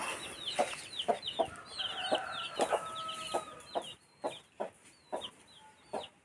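Backyard hens cluck in short, irregular bursts, close by, with high chirping calls overhead and no talking.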